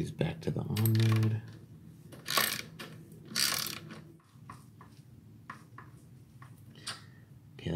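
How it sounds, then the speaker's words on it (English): A 13 mm socket ratchet tightening a nut on an SC Project exhaust on a Yamaha XSR900 motorcycle. Short mechanical clicking bursts come close up, with brief metallic clatter between them. "get in the 13 millimeter socket on the back on the nut"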